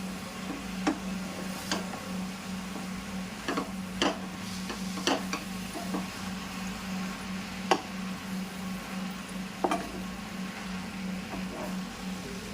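Thotakura (amaranth leaves) stirred in a pan, with faint, irregular clicks and ticks of a utensil scattered over a steady low hum.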